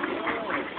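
Ducks quack in a short, close, fairly loud burst of several overlapping calls, with no one talking.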